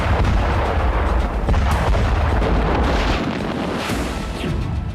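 Bomb, missile and artillery strikes in Kursk: continuous loud rumbling blasts and booming impacts with wind buffeting, a dense sustained roar throughout with sharper bursts mixed in.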